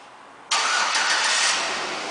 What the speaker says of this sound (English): and the car will start